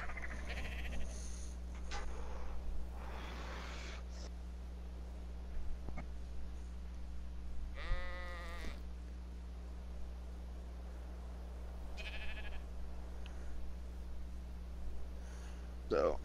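Sheep in the video game ARK: Survival Evolved bleat in short harmonic calls at moderate distance, a couple of distinct bleats standing out over a steady low electrical hum, with faint talk at points.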